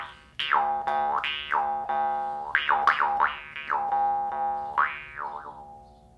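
A square-frame, loop-trigger jaw harp from Hobby Lobby, stainless steel or nickel coated with a loose reed, twangs as a steady drone with repeated vowel-like boings plucked in an uneven rhythm, close and fairly quiet, with no voices.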